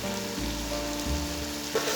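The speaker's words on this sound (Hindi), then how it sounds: "एक मिनट तक पका लेंगे नमक और मिर्ची डाल के।" Beef pulao sizzles and fries in a pot with salt and ground red chili added, a steady close crackle with a few stirring bumps.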